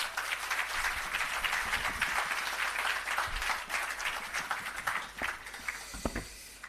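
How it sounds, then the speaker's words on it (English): An audience at the commissioning of the Parnassus irrigation system and launch of the Parnassus Agro Park applauds the minister with sustained, dense clapping that thins out toward the end, with no talk over it. "Please give him another round of applause"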